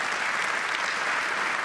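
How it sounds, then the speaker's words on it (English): Audience applause at the UEFA Champions League group stage draw ceremony, dense sustained clapping from a large indoor crowd, steady and loud throughout with no talking. "Absolutely deserving of the applause."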